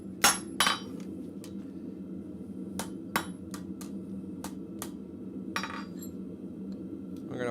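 A blacksmith hammering a section of steel flat on the anvil at the forge, a series of sharp ringing strikes spaced irregularly, with a few louder blows early on over a low shop hum.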